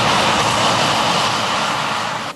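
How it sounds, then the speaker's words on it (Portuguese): A loud, steady drone of farm machinery engines working a field in rural Brazil fills the whole stretch with broadband roar, easing off slightly near the end; no voices. "Mas é o coro dos motores o que mais se ouve no campo agora."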